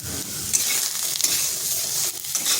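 Eggplant frying in a pan with salt and turmeric: a steady, loud hiss of sizzling oil with a few brief scraping stirs, close and continuous, no talking.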